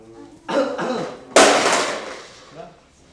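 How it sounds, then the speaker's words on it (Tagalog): A person coughs twice during a doctor's check-up, two close, sharp bursts in a quiet room, with a voice faintly nearby. "umubo ka."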